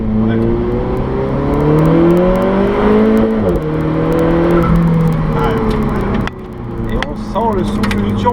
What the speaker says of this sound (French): Le souffle du turbo, il n'est pas désagréable finalement ce turbo.